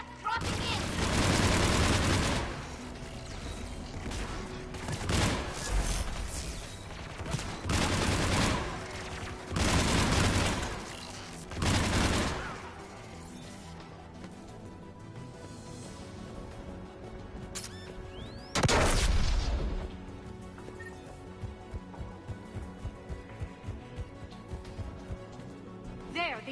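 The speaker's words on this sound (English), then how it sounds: "There, the anti-aircraft guns." Anti-aircraft guns firing in the Mass Effect 3 video game, played on PS5: loud sustained bursts of gunfire and booming blasts separated by quieter stretches, with a faster rattling run of shots near the end.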